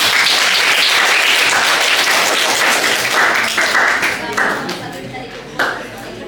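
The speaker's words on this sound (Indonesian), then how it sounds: "Beri tepuk tangan." An audience claps after a student presentation, dense and loud at first, then thinning and fading toward the end, with a voice heard underneath.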